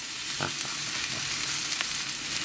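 A burger meat patty topped with cheese fries in a pan with a steady broadband sizzle, close and continuous, with a few brief scrapes or clicks over it.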